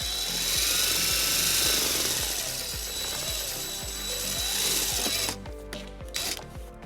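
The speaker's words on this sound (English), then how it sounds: "then we'll drill our second hole" A power drill whirs steadily as it bores a hole in a 2017 Toyota RAV4 during trailer wiring harness installation, its pitch rising and falling, then winds down and stops with a few clicks.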